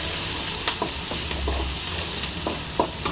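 Onions fry in a pan for a kuppaimeni herbal soup, a dense close sizzle punctuated by repeated quick stirring scrapes at an uneven rhythm, no one speaking.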